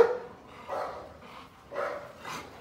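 Female dog barking, a bulldog-type breed, giving three or four short separate barks at a steady pace, moderately close but fairly quiet, with no talk over them.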